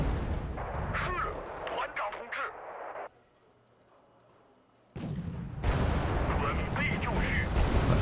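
Gunfire and explosions in the Wargame: Red Dragon video game as a UAZ is destroyed, loud rumbling bursts that cut to near silence for a moment, then resume heavily, with a voice talking over parts of it.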